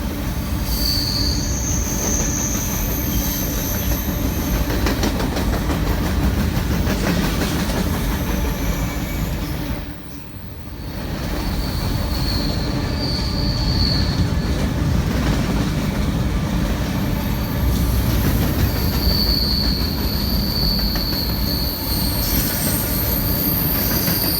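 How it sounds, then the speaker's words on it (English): A long BNSF freight train of empty cars rolls past at dusk at Carkeek Park in Seattle, wheels squealing on and off over a steady rumbling clatter, with a brief dip in the noise midway. "Wow, that was a long train of empties."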